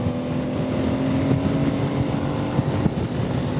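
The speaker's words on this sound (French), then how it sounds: "Je vais mettre gaz." A Tuareg 660 motorcycle, an urban trail bike in A2-restricted form, rolls at about 100 km/h in sixth gear as the throttle opens, a steady engine drone blending with heavy wind rush, sustained and close with no voice.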